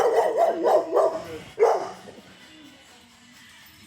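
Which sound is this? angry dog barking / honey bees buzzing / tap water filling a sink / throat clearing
angry dog barking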